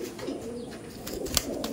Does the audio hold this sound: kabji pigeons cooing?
yes